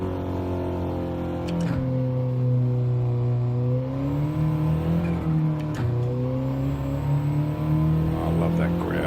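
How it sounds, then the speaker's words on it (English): A front-wheel-drive race car in a racing video game growls as it accelerates, its engine pitch climbing and dropping with gear changes. Someone talks over the steady engine roar. "I love that growl, this growl right here."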